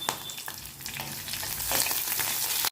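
Garlic, curry leaves and a green chili fry in hot oil for kootu, a loud, close crackling sizzle with stirring surges and one sharp click near the end, with no voices.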